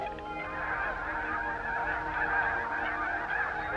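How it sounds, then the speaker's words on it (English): Snow geese, whistling swans, pintails and mallards call together at a lake, a dense, continuous chorus of honking and chattering waterfowl, fairly distant and steady with no voices over it. "Snow geese, whistling swans, pintails, and mallards."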